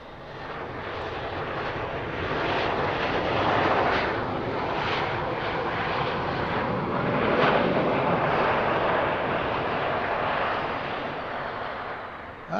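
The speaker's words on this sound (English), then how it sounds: "here's the 717 landing from Atlanta" A Boeing 717 cargo jet lands at Harrisburg airport at night with a loud, steady, broadband engine roar that rises and falls gently as it passes close by.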